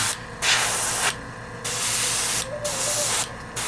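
Close aerosol spray paint hisses in steady bursts of about a second, with short pauses between, as dark gray coats rubber foam terrain rocks for tabletop wargaming.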